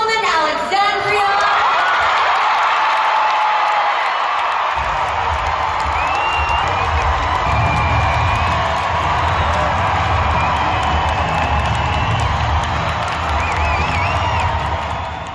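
A large crowd at a political rally in Salt Lake City, Utah, cheering and whooping loudly and continuously, with scattered shouts rising above the roar.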